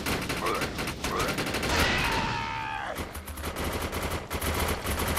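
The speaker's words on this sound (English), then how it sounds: "Yeah, I turned on the turret." Rapid turret gunfire from the video game Defiance, dense overlapping bursts that run almost continuously, loud and close, with game effects mixed in.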